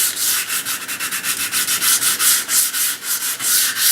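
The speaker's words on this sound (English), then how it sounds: "we're just kind of finishing up here now on our sanding." Rhythmic sanding of a wooden stock for a Ruger M77 Mark II rifle, brisk back-and-forth rubbing strokes repeating steadily, close and loud with no talking.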